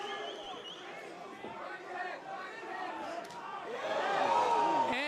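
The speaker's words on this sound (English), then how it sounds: "That had the crowd buzzing." Boxing crowd at a live fight buzzing with excited chatter, a dense murmur of many voices that swells louder toward the end.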